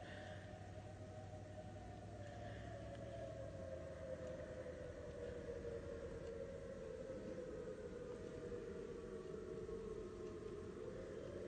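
A tsunami warning siren sounds after an 8.0 earthquake in Alaska, a steady wailing tone that slowly falls and rises in pitch across the whole stretch, with a low drone beneath that drops away partway through.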